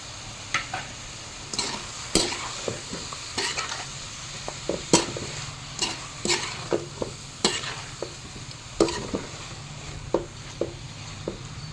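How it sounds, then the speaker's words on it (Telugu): Spinach is stirred into a sizzling chicken curry for palak chicken, with repeated scraping and clanking spoon strokes against the pot over a continuous frying hiss, irregular and close, no voices. "ఇప్పుడు మనం ఇందులోనే ముందుగా తరిగి ఏంటి శుభ్రంగా కడిగి పెట్టుకున్న పాలకూరను కూడా వేసేద్దాం"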